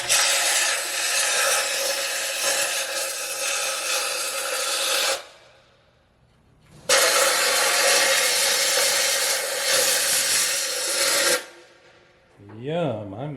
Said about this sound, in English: So I'm going to get the air compressor hose and give it one more squirt and see what happens.